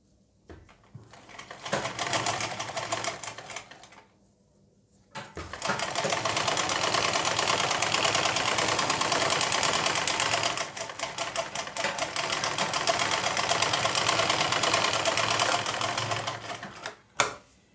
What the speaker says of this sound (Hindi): बिल्कुल सिंपल वे में मैंने इस पर सिलाई लगा दी है